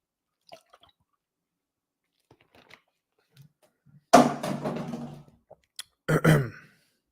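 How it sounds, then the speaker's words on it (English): Someone takes a sip of water close to the microphone, heard as two short wet slurping bursts separated by a pause, with near silence before them. "Take a sip of this water."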